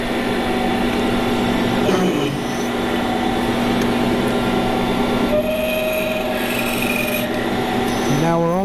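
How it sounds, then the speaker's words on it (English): A standard drill bit cuts into a part for an entertainment center build, making a steady rasping, grinding drone. The pitch shifts upward as the tool winds down at the end. "And then we're gonna run normal drill in."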